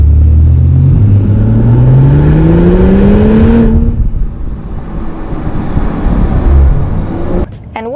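A Mercedes-Benz CLS 450 4MATIC coupe's engine revs up loudly, its pitch climbing steadily for a few seconds before dropping back to a deep, rumbling drone with road noise.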